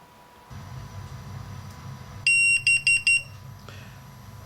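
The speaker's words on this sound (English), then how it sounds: "It's going to make a sequence of beeping when it's actually done discharging the battery." An iSDT FD-100 battery discharger sounds a short series of four loud, clear electronic beeps over a quiet fan-like hum, one long tone followed by three quick pulses.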